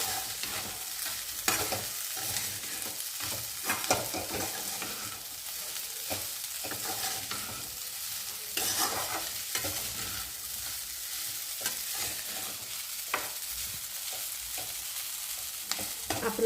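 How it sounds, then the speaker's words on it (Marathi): Pasta is sautéed in a pan, with a continuous sizzle and frying hiss broken by repeated scraping and clacking of a utensil stirring and tossing it, close and fairly quiet, with no talking. "ते छान परतून घेऊया।"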